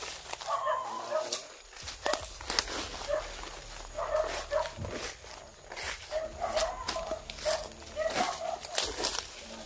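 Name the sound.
dogs barking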